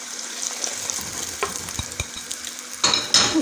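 Chillies and dry whole spices fry in a pan for a Smokey Butter Malai Chicken Handi, a steady hiss with a few sharp pops and clinks, rising louder near the end.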